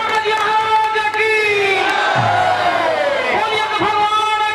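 A crowd at a Ram Vivah folk stage performance in Vaishali claps and shouts with a loud, continuous roar, while a voice and tonal music carry over the noise.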